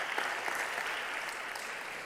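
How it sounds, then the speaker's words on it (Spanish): A church congregation at a Spanish-language service applauds in praise of God, a short burst of dense, even clapping that fills the room throughout. "denle una gloria y un aplauso a nuestro Dios"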